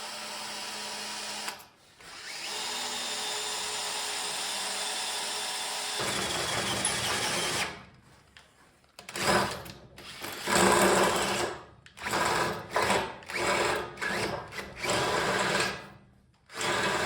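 A drill press whirs steadily for several seconds, then runs in short, repeated bursts with brief pauses between them.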